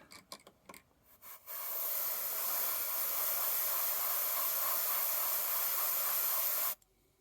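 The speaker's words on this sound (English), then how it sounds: "then take your airbrush" Airbrush spraying paint onto a 1/72 scale model aircraft wheel mounted in a masking holder: a loud, steady hiss of air and paint that starts abruptly after a few soft handling clicks, holds for about five seconds, then cuts off.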